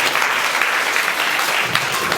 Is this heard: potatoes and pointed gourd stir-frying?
no